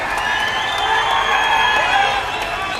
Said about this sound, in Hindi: हमारे आदरणीय मेहमान आ चुके, जोरदार तालियों से स्वागत किया जाए।